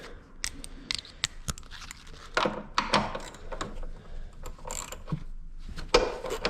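A hand wrench works a 14 mm bolt on the engine of an old 2.0-litre 16-valve Neon, giving sparse, close clicks, creaks and scraping knocks at irregular intervals with quiet gaps between them.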